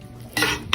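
Metal spoon scraping and clinking against a pot as mutton pulao is dished out, two quick bursts of sound, close and alone.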